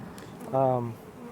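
A single bee buzzes close by at a concrete beehive in a brief, loud droning pass, fading as it moves away.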